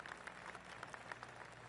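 Golf clap applause from the crowd in a PGA Tour video game, a soft, steady patter of polite clapping that lasts under two seconds and stays at a low, even level.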